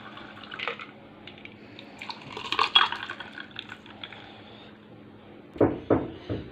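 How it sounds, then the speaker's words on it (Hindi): A water-based masala soda mixture is poured into a glass, giving soft splashing and liquid trickles with a few light clinks of glass, followed by a louder burst of pouring near the end, no talking. "इसमें जो हमने अपना मिक्सचर तैयार किया है पानी वाला वो डालेंगे"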